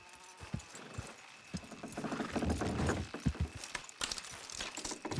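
In Red Dead Redemption 2, horse hooves clip-clop along at a moderate pace, fairly quiet, with a soft rumble of movement and a faint whinny-like sound. There is no speech.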